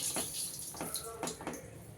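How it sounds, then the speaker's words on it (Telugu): Water is poured into a pot of Telangana-style chikkudu kaya curry, a few short splashy gushes close by under a quiet kitchen background. "ఇందులో కొన్ని వాటర్ పోసి ఉడికించుకుందాం"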